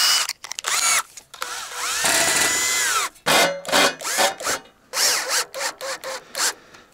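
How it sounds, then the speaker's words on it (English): A power drill drives screws into a bracket on a stone roof, with one long sustained whine followed by a run of short, loud bursts in a stop-start rhythm, close by. "I could just put a couple of screws in there, just like, you know, three screws."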